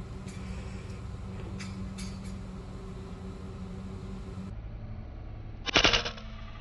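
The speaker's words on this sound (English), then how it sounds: "I got some javelin slugs that I'm gonna shoot." Air rifle firing javelin slugs at pigeons about 65 yards away, a single sharp shot near the end over a steady low background hum.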